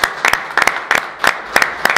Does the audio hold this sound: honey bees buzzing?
no